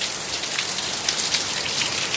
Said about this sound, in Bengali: বর্ষাকালে এরকম বৃষ্টি হবে, আর কি করা যাবে বলো?